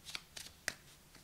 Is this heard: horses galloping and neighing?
no